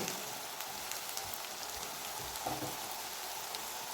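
Pancakes frying in a pan of butter with a little vegetable oil added, giving a steady, close, even sizzle and crackle with no talking.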